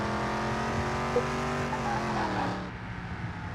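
Game car engine droning steadily with harmonic whine, easing down near the end as if braking, with a brief tire squeal; no talk.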